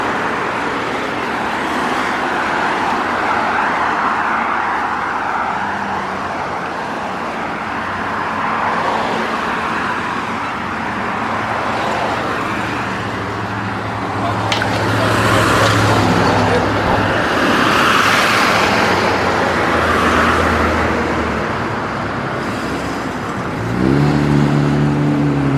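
Busy main-road traffic heard while crossing on foot, cars and buses rumbling and passing close by with engines revving, a continuous roadway roar that swells midway, and a low beeping crossing signal near the end.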